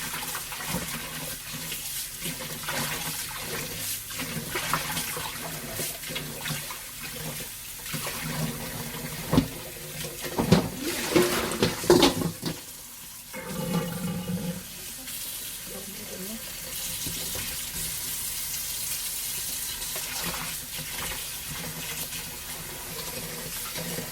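Lotus roots are rinsed under a running tap in a kitchen sink, a steady stream of water splashing and churning throughout, with handling noises and a voice speaking faintly over it.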